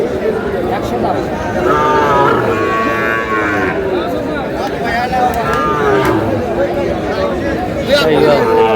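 Five-month-old Sahiwal bull calves low and moo several times at a busy cattle market, loud and close, over a steady babble of people talking and bargaining.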